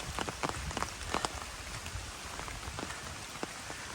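Steady rain falls through foggy mountain woods on a ridge trail, a dense even patter with scattered sharper drops hitting nearby surfaces, no voices.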